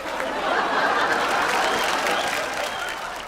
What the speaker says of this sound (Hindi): तालियां उस लड़की के लिए।